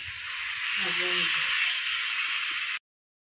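Marinated mutton hits hot oil and spice paste in a pan for a Bengali mutton curry, giving a loud, steady broadband sizzle and hiss that runs unbroken for nearly three seconds before cutting off abruptly; a faint voice murmurs underneath.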